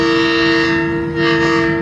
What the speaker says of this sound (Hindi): ये लोकोमोटिव आया था हमारे साथ 8069, ये डिटैच होकर वापस जा रहा है शेड की तरफ